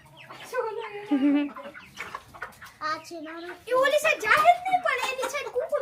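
Chickens cluck and squawk repeatedly as a newly arrived rooster is attacked by another, while people, including a child, talk and exclaim over them nearby.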